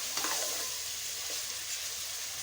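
Chopped garlic fries in a pan for a palak gosht dish, giving a continuous close hiss of sizzling oil with faint stirring scrapes, and no one speaking.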